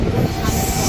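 The Lalgola–Ranaghat ICF train pulls into a station with a steady, close rolling rumble of wheels and carriages and a faint squeal, brief and continuous.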